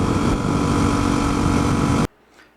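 A Suzuki DRZ250 motorcycle engine drones loudly and steadily on a test ride, then cuts off abruptly into near silence.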